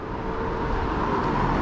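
An Opel car drives by on a road in Sweden, a steady broadband engine and tyre rumble that stays loud and close throughout, with no voices.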